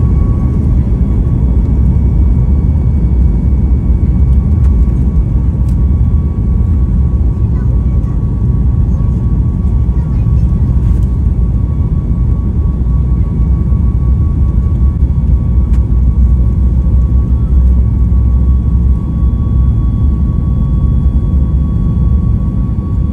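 A loud, steady low engine roar drones throughout, the continuous rumble of an airplane accelerating down the runway for takeoff, heard from inside the cabin.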